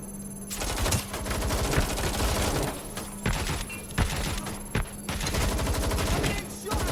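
Gunfire in Watch Dogs Legion crackles in rapid automatic bursts with sharp individual shots, loud and close, pausing briefly between volleys.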